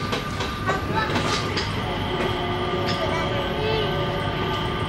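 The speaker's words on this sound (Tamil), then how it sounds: "ட்ரெயின் கிளம்பிடுச்சு." An airport sky train at Singapore Changi Airport departs, rumbling and clattering steadily, its wheels grinding and clicking along the rails in a continuous loud wash of noise.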